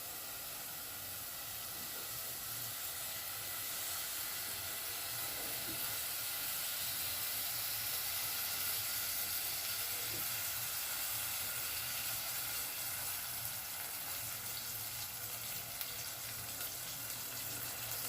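Chopped onions frying in a thin layer of cooking oil for ginger-garlic beef, giving a steady, even hiss and sizzle that runs without a break the whole time, with no talking.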